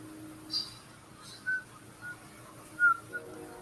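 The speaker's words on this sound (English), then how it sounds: "Who's whistling?" A few short, thin whistled notes sound at intervals over a quiet room hum, faint and somewhat distant.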